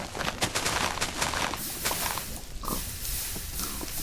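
A pig oinks in a Minecraft-style video game near a lava pit, its grunts mixed into a dense crackling, noisy game soundscape that holds steady for about four seconds.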